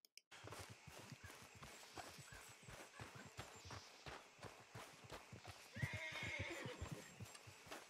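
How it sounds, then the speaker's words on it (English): A horse in the Red Dead Redemption 2 video game whinnies and neighs while its hooves clip-clop steadily as it trots up, loud and close, with a louder whinny near the end. "I might as well get my horse called and get him on there."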